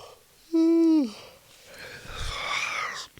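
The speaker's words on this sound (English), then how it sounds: "Can't help yawning with this condition." A man yawns once, a long, rising then falling voiced yawn up close, followed by a breathy exhale and soft mouth sounds.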